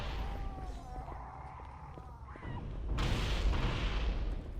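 Grenade explosions in the video game Halo CE, a mix of muffled booms and gunfire-like bursts with a louder, broader blast roughly two-thirds through, heard over steady game ambience.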